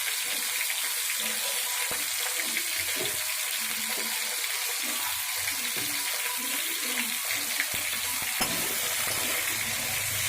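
Dalia khichuri frying in a pan with oil, peas and tomato, stirred steadily, with a constant sizzle and soft scraping throughout, fairly close and alone without talk.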